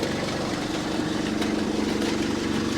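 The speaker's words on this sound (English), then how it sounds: "this part here, when the engine's ticking over" A Chieftain tank engine ticking over during a TN12 gearbox test, a steady close low rumble with fast even pulsing, idling at constant level for a few seconds.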